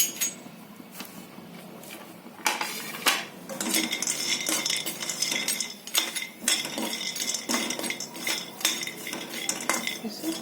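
Coconut, cumin seeds and roasted chickpeas dry roasting in a pan, stirred with a metal spoon that scrapes and clinks against the pan in busy, irregular strokes, close and continuous with no talk.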